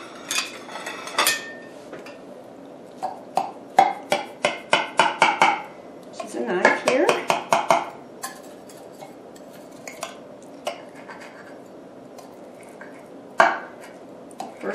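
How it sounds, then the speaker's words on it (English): Serving utensils scrape and clink against a casserole dish and plate while a piece of creamy burrito casserole is cut and lifted out, with a quick cluster of clattering knocks in the middle and scattered single taps afterward, close and moderately loud. "now I'm going to cut a piece and put it on a plate"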